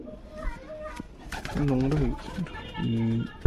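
Domestic fancy pigeons of the fulshira breed coo in low, rolling phrases, several calls close together at close range, with someone talking between them.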